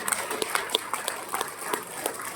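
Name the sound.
audience applause at political event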